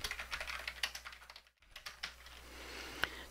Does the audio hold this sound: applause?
no